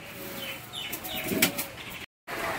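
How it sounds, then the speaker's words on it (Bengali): Pigeons coo softly amid a flurry of wing flaps on a rooftop outdoors in wind, the birds close by, ending in a sudden brief cutoff. "কবুতরগুলো আমার এসে এই যে ছাদের এখানটা এসে দাঁড়িয়ে রয়েছে"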